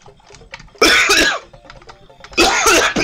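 Two harsh, loud coughing fits from a young man playing Super Mario World, each a quick cluster of rough throat bursts about a second and a half apart, with small murmurs and game noise in between.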